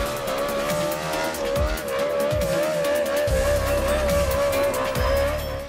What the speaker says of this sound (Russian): Рев мотора, море огней и клубы дыма